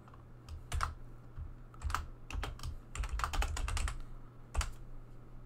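Fingers type on a computer keyboard to enter code, a close run of irregular clicking keystrokes that bunch into quick flurries, with no talking.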